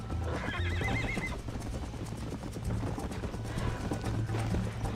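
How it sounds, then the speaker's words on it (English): A horse in the Red Dead Redemption video game whinnies loudly at the start, then its hooves clip-clop in a steady galloping rhythm under background game sounds. "I think you chose the wrong horse, Miss McFarland."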